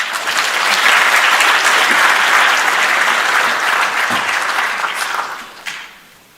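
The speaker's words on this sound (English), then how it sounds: "Let's give them a round of applause." Sustained applause from an audience at the opening session of a national space conference, loud and steady for about five seconds before fading out, with no talk over it.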